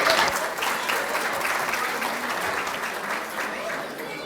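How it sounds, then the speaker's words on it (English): Audience members at an interfaith dinner in Scottsdale give a steady, full round of applause for the speaker, a dense even clatter of many hands that holds its level throughout. "Please go ahead and give him a nice round of applause."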